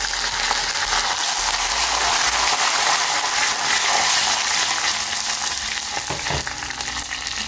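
Red chilies and curry leaves frying in hot oil in a pan, a loud, steady crackling sizzle that runs the whole time, close up, with faint stirring scrapes and no speech.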